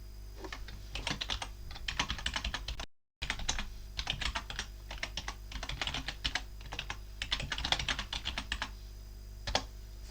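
Close, brisk typing on a computer keyboard, a dense run of clicking keystrokes in quick clusters with brief pauses, alone without talk and with a short dropout near the three-second mark.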